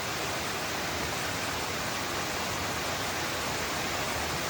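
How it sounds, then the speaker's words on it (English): Steady, full roar of a waterfall along a hiking trail up Kinsman Mountain in the White Mountains, near and constant, with no voices or other sounds over it. "I believe there's 3 waterfalls on the way up Kinsman."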